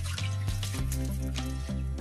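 Water pours steadily into a drum, a full, gurgling splash that rises in pitch as the container fills, loud and close with a few brief bubbling surges.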